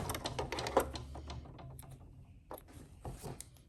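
A sewing machine backstitches a curved pant waistband seam in short, quiet mechanical bursts of rapid stitching, pausing and restarting, with faint handling noises between runs.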